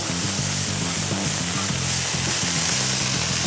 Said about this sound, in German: nebenher braten wir hier das Spießchen